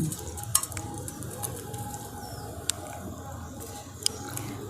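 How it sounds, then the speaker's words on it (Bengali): Sattu, black salt and water being stirred together in a glass, a soft continuous swishing with sharp spoon clinks against the sides at irregular intervals, quiet and close. "এবার সমস্ত কিছু আমি খুব ভালো করে একসাথে মিশিয়ে নিচ্ছি।"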